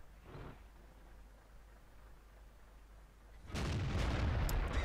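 A tank cannon firing in World of Tanks, a single loud booming shot near the end after a quiet stretch with a faint earlier burst, the blast rumbling on.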